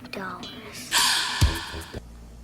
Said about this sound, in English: Did the film score just gasp?